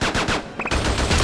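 Rapid gunfire in the Xbox 360 game Attack of the Movies 3D during a giant scorpion fight: quick, loud, closely spaced shots in fast bursts, broken by a brief pause with a short electronic chirp, no talking.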